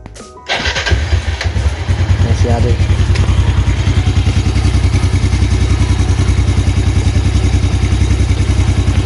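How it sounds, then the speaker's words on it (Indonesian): A 2015 Yamaha Jupiter Z1 motorcycle engine starts and settles into a loud, steady, close idle with a fast rhythmic clatter, and someone speaks briefly over it near the start. "Tapi kita mau dengar dulu suara mesinnya biar kita tahu kira-kira bunyinya itu apakah dari kanan"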